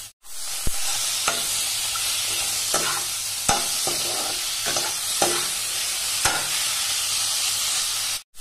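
Chicken pieces sizzle loudly in a hot pan, and a spatula stirs them with repeated knocks and scrapes against the metal, close by and steady throughout.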